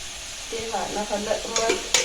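Hot oil sizzles and crackles as chilies hit the pan for tempering, with a few sharp pops and light stirring clatter, close up.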